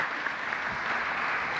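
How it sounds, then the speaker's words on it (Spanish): Brief, soft applause from an audience at a cultural recognition ceremony in Buenos Aires, a steady wash of distant clapping lasting under two seconds. "un aplauso para todos"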